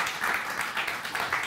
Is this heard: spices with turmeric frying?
no